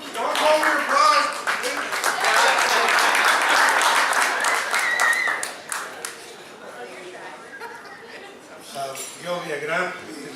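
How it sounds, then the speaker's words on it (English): A crowd at a fundraiser dinner bursts into loud, dense applause for several seconds, then it thins out to scattered claps, with chatter and clinking dishes in the room. "Don't hold your applause"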